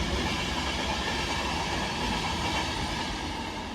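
A Class 67 diesel locomotive hauls a train past Cheadle Hulme station, giving a steady, loud rolling rumble with rail noise that holds for the whole stretch and fades slightly toward the end, with no talk.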